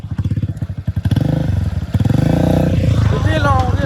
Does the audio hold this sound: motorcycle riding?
yes